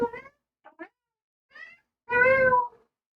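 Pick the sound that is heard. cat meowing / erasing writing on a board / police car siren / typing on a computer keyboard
cat meowing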